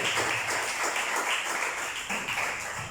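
Church congregation applauding during a sermon, a continuous wash of many hands clapping at moderate level for a few seconds, somewhat diffuse in a large room, with no voices over it.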